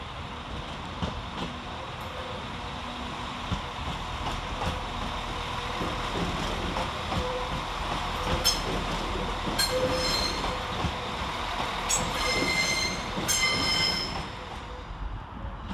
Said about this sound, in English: Arriving to terminate with a Northern service off of New Mill Central is 195-116.